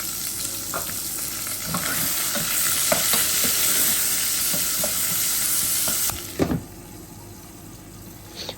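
Onion sizzles hard in hot oil with mustard, fennel and cumin seeds, a dense steady crackle with scattered pops that cuts off suddenly near the end, followed by a couple of metal knocks.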